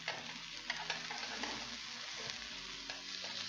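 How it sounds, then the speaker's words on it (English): Charred kimchi hisses and sizzles steadily in a hot pan as water goes in to deglaze it for a Korean burger, with a few stirring scrapes over the continuous frying noise. "just add a little bit of water, and you want to deglaze"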